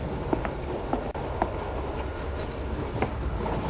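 A moving train in the video game The Last Express, a steady low rumble of rolling carriages with occasional faint clicks and knocks, continuous and fairly loud, no talking.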